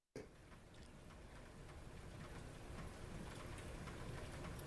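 Steady rain falls in a dense, even hiss of drops that begins abruptly and keeps going without pause, soft and distant with no voices over it.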